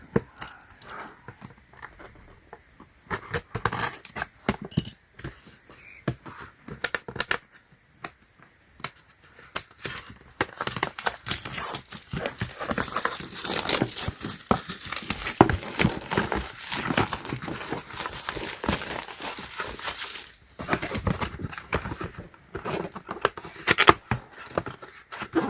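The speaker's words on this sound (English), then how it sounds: "So yeah, let's go ahead and open this up." Packaging for a Foxpeed G29 car jump starter is opened and handled: continuous close crinkling, rustling and crackling of plastic and cardboard, with sharp clicks and tears and no talking.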